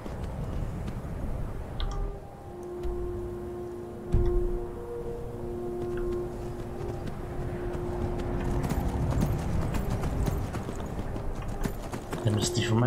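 Rhythmic clip-clop of horse hooves in the video game The Elder Scrolls V: Skyrim runs through the clip alongside faint tonal game sounds and scattered clicks.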